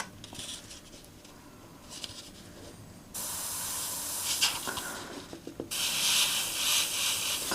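Airbrush spraying paint to lightly tone a subscriber's piece, a soft steady hiss that starts quiet and broken, then swells into louder continuous bursts with brief pauses between passes.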